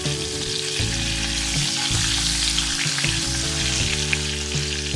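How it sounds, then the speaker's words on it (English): Curry leaves sizzle loudly in hot oil, following crushed garlic cloves for a Maharashtrian moth bean dish, giving a dense steady crackling hiss close up, without voices. "let's add in some curry leaves,"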